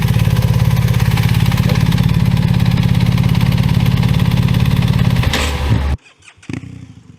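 A BMW 1300 GS motorcycle engine runs close and loud, a steady throbbing idle with dense rapid pulses for about five seconds before cutting off, followed by faint scattered handling noises.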